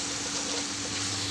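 Tomato and grated coconut sizzle steadily in a hot pan, with a continuous frying hiss and soft scraping of stirring, close and even throughout, ending on a small clink.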